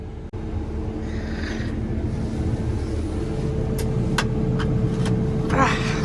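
A payloader with its engine running on a snowy day, a steady low rumble and hum that grows slightly louder while driving, with a few brief higher clicks and a burst of hiss near the end.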